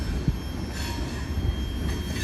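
Freight train boxcars roll slowly along a rail switching track toward an industrial building, a steady low rumble of wheels with faint metallic squeal and occasional soft clunks, no voices.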